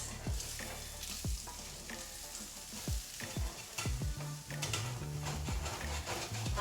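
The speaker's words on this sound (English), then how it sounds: "once you have the oil in there and it looks hot, you're gonna go in with the onion and the carrot" Onion and carrot sizzle steadily in hot oil for pork fried rice, a dense crackling hiss with scattered low thumps and knocks from a utensil, loud and close throughout with no one talking.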